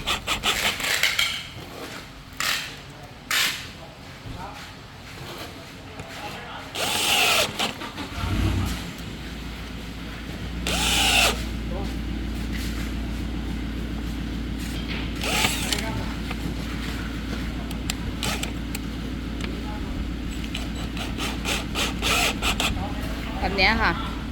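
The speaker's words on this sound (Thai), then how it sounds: "เราจะยิงเว้นเข้ามาหน่อยแบบนี้นะคะ ก็ยิงน็อตลงไป" A power drill drives screws into the wood of a WD801 dressing table during assembly: creaking, rubbing mechanical noise and a sustained motor drone up close, with a voice speaking intermittently.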